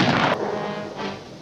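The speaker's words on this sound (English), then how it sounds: "Bugs Bunny and Yosemite Sam continue to blast each other with cannons." A cartoon ship's cannon fires in a naval battle between Bugs Bunny and Yosemite Sam, a loud booming blast with a fading rumble and a second softer thump.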